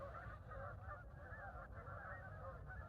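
A chorus of geese honks outdoors, many overlapping calls in an irregular, continuous clamor, fairly faint and distant against a low background rumble.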